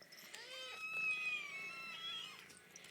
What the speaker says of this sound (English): Look at the pretty kittens.